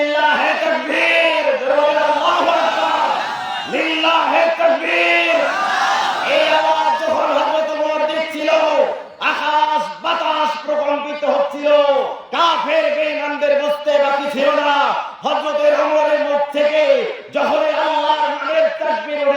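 A large crowd loudly shouting the takbir together in strong, sustained bursts of massed voices, with brief dips between the chants.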